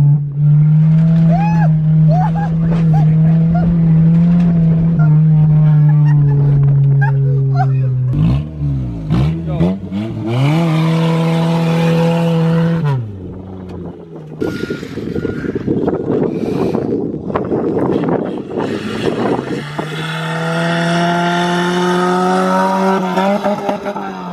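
An old beater car, newly fixed, runs with a loud close engine note that revs up and down in several surges, with a rough gap midway and a rising rev at the end, while people talk and shout over it.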